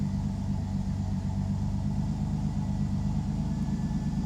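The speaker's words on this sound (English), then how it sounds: "We are in neutral, and when I give this car gas, it bogs down." A Pontiac Fiero engine with a misfire and bog runs in neutral, giving a close, low, steady rumble with a rough pulsing beat and no clear rise in revs.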